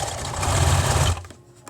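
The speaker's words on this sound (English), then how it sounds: "So this is the simplest part of this bucket hat. Just sewing these." A sewing machine stitches a seam on a fabric bucket hat, a close, loud, steady mechanical whir that stops abruptly near the end.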